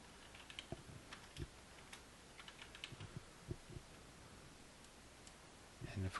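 Keyboard keys clicking as a password is typed on a computer while setting up a domain controller, a quiet run of scattered light taps with brief pauses and a couple of louder strikes near the end.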